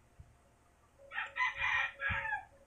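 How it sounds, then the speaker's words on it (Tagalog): A rooster crows once nearby, a clear, drawn-out cock-a-doodle-doo lasting over a second against a quiet indoor background, with a couple of faint thumps around it. "Ingay ng manok, hindi amin 'yan."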